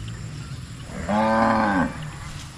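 A single cow from Batangas gives one loud, close moo lasting under a second, rising and falling, over a steady low outdoor rumble.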